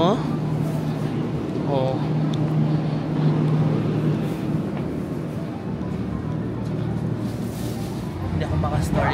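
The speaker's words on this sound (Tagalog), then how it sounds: "ito na yung sasakyan nating tren pabalik ng Toyama Station. It's a local train" A local train rolling back toward Toyama Station, with a steady low rumble and hum filling the car beneath a talking voice, plus a few higher squeals and quiet background chatter.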